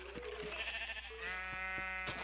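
Sheep bleating in Minecraft, two or three short wavering bleats close up, with soft clicks and thumps around them.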